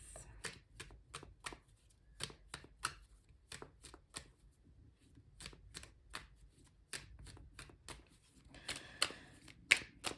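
Tarot cards are shuffled and drawn in a rapid run of crisp, papery snaps and slaps. The sounds are close but fairly quiet, with short pauses between bursts and no talking.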